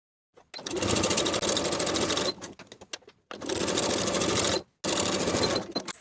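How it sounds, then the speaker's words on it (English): A sewing machine runs in three steady bursts while stitching a sleeve seam on fleece pajamas, with a 3/8 inch seam allowance. Each run is loud and close, with brief pauses between them and no talking. "Sew with a 3/8 inch seam allowance and repeat to attach both sleeves."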